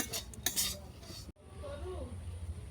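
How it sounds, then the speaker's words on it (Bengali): Rice flour with cashews, raisins and bay leaves is lightly fried and stirred in ghee in a pan for mango payesh, giving scraping, clinking spoon-on-metal stirring in bursts, then a quieter steady stir after a brief gap. "এটাকে হালকা করে ভেজে নেব।"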